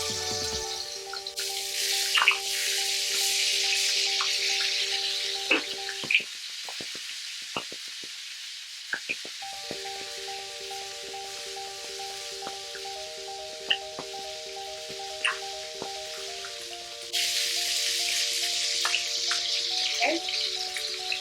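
Beef spare ribs frying in hot olive oil, a steady close sizzle and crackle with scattered pops, running under a sustained tonal hum with a brief lull partway through.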